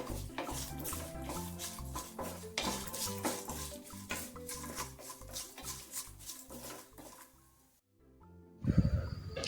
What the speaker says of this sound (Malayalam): അത് രണ്ടും കൂടി ചേർത്തിട്ട് നല്ലപോലെ വഴറ്റിയെടുക്കുക